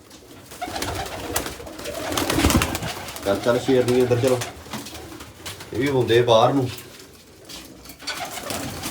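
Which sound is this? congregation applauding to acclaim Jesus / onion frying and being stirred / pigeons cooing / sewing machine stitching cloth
pigeons cooing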